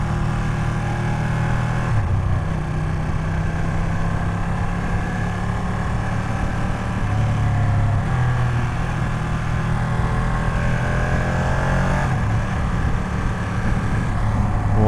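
A Ducati V2 motorcycle on a Sunday ride, its engine droning steadily and loud throughout with a low rumbling tone, gear-like shifts in pitch around every few seconds, and a constant rush of wind noise.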